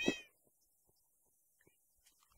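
A single short cat meow from a Minecraft game at the very start, clear and fairly close, followed by near silence with only faint scattered clicks.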